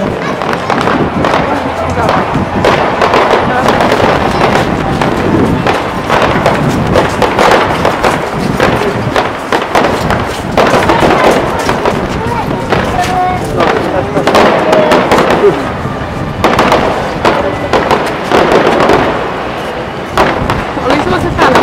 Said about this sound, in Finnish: on aika aloittaa ilotulitus